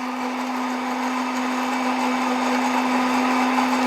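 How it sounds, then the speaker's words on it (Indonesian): A blender whirs steadily as it purees chopped grapes together with garlic for a herbal remedy, a loud, even motor drone with a strong low hum running unbroken throughout, no talking over it. "Anggur yang sudah dipotong-potong ini baru kita blender bersama dengan bawang putih."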